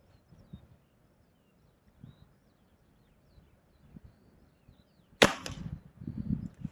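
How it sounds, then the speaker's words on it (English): A Weihrauch HW80 or HW90 air rifle fires and its pellet strikes a card target, giving a single sharp, loud crack followed by a brief rattling tail, after several seconds of near quiet with faint scattered taps. "Making a nice satisfying thwack when it hits the card."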